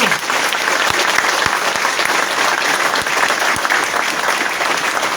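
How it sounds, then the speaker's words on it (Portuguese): Loud, dense applause from a crowd at a swearing-in ceremony for a municipal housing secretary, steady and continuous throughout with no voices. "E eu quero pedir uma salva de palmas para esse período histórico."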